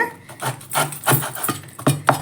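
A knife slicing the green skin off a tender jackfruit, producing a series of rough, scraping cuts in an uneven rhythm, close and fairly loud.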